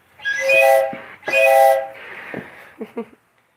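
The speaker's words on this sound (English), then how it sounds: "I like the train horn." Two long blasts of a train horn, loud and near, each about a second, followed by a few fainter clanks and shorter tones.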